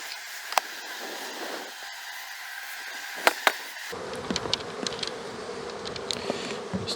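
Honey bees buzzing around an opened hive during an October mite wash, a steady close insect drone with a few sharp taps and knocks, growing busier and louder partway through.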